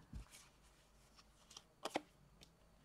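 Tarot cards shuffled and dealt onto a table, a few soft riffles and sharp card slaps, close and quiet with pauses between.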